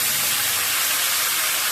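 Taro stolons dropped into a hot pan with butter and fish head, giving a loud, steady broadband sizzle that holds evenly throughout with no talk.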